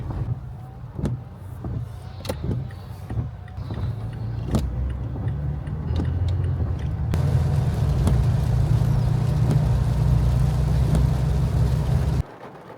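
A truck drives through rain on a wet road, heard from inside the cab: a steady low rumble with hiss from the tyres, rain drumming with sharp taps in the first half, and a louder wash of road spray after about seven seconds.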